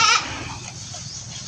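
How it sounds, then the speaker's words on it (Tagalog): Goat kids in a pen on a farm give a short, fairly close bleat at the start, followed by low background rumble and faint ambient noise. "Mga anak ng kambing mo rin yan ha?"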